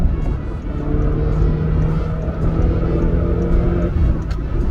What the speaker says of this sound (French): Attendez, j'accélère pour me rendre sur l'autoroute.